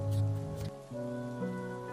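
Rain falls steadily on a road at night in a Bengali ghost cartoon, a soft constant patter mixed with sustained musical tones throughout.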